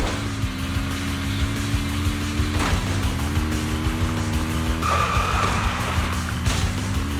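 Car engine droning steadily while racing around a track in the Zenless Zone Zero game, with tire squeal rising partway through over a continuous loud motor hum.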